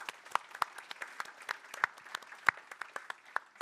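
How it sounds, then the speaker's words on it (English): A small audience at a tech announcement event claps in sparse, uneven individual claps, faint and spread out, with no talking over them. "Please, guys, stand up and give them an applaud."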